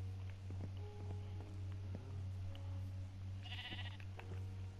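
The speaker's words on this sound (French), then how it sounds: "Pour pas que ces saloperies de moutons viennent de voler ma bouffe." Sheep bleat in the Minecraft video game, a short faint bleat over a steady low hum with soft scattered ticks, no one talking.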